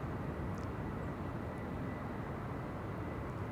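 Aircraft at Amsterdam Schiphol Airport produce a low, steady distant jet rumble that holds evenly at a faint level throughout, with no talking over it.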